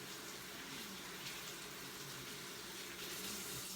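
Water runs steadily from a faucet while mini cucumbers are rinsed under it, a continuous close hiss and splash with no pauses throughout.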